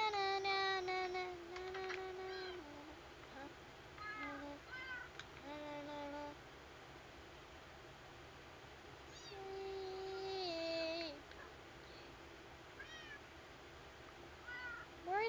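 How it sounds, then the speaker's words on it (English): A baby kitten meows repeatedly, its high, drawn-out cries coming close and fairly loud in a quiet indoor room, with short pauses between calls. "But here's our baby kitten."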